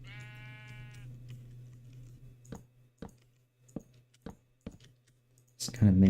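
One drawn-out, wavering bleat from a Minecraft sheep fills the first second. A few sharp block-placing clicks follow at irregular intervals, then a louder thud at the end, with no talking.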